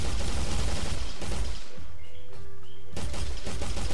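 Rapid weapon fire from a Roadhog character prototype built in Unreal Engine 4: dense, loud bursts of shots that break off briefly midway into a quieter tonal lull, then resume at full intensity.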